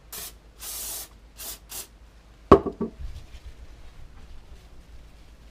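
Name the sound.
spraying contact cleaner and scrubbing starter motor parts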